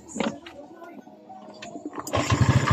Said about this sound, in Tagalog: On natin ang kanyang susi guys para mapandar natin ang kanyang motor.